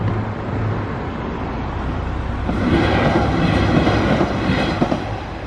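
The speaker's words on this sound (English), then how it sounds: "Oh, here comes the train." A train rumbles past nearby, a steady heavy roar with rattling wheels and clacking that grows louder midway, no voices.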